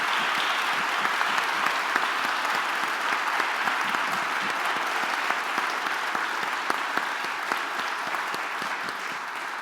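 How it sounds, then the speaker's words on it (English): Audience applause for Governors Andy Beshear and Mike DeWine at a panel session, a full, steady round of clapping from a sizable crowd lasting the whole stretch without speech. "Let's give them a round of applause"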